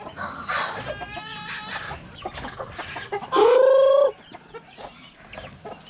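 Farm chickens cluck busily in a steady chatter, with one loud, drawn-out squawk or crow standing out near the middle, all close by and with no talking.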